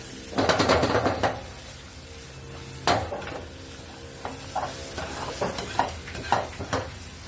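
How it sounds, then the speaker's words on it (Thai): Blue crab stir-fried with curry powder and egg in a pan: loud bursts of sizzling and clattering stirring strokes at the start and near the three-second mark, then a softer steady fry with lighter scraping taps. "เอาผัดให้ไข่สุกนะครับ"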